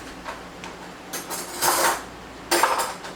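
A spoon scoops almonds from a container in a few bursts of dry clattering and scraping, each lasting under a second, close by and moderately loud.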